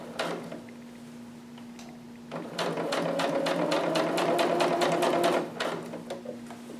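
A sewing machine understitches close to a seam on a garment lining, a rapid mechanical stitching rattle in two bursts, the longer second run quick and steady, heard up close with no talk.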